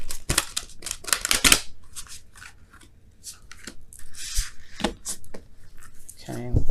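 Tarot cards are shuffled by hand in quick riffling, rubbing bursts with brief pauses between them, close up under occasional talk.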